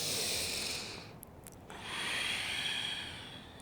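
Slow, deep breaths taken during a vinyasa yoga flow, a long airy exhale, a short pause, then another drawn-out breath, close and soft with no talking.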